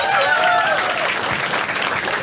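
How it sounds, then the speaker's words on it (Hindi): An audience at a stand-up comedy show breaks into a short, loud burst of clapping that fills the room evenly and fades slightly toward the end. "एक बार इसके लिए ताली बजाओ सब लोग."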